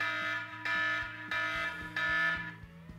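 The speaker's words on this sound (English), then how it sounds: "this is the alarm. You can hear it." An iPhone's anti-theft alarm from a jailbreak tweak sounds loud and near, a harsh buzzing siren pulsing in roughly half-second bursts with a steady droning hum beneath, and no one talks over it.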